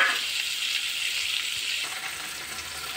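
Onions and leafy greens fry in hot oil with a steady close sizzle that eases a little partway through, with no talking.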